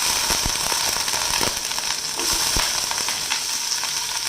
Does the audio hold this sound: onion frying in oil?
yes